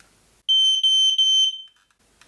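A smoke detector's test button sets off a loud, piercing electronic alarm beep, one sustained tone broken by two brief gaps, close by, then cutting off into quiet.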